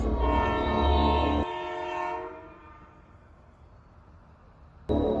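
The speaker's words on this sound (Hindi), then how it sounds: "ट्रेन निकलने का समय हो चला था।" A train at a railway station sounds a loud, sustained horn that fades after about two seconds into a low rumble, then a short sharp tone cuts in near the end.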